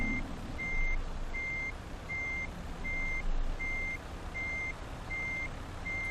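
A truck in Euro Truck Simulator 2 backs a Castrol trailer into place in Nikel, Russia. A steady reversing alarm beeps evenly about eight times over a constant low engine rumble, close and clear, with no talking.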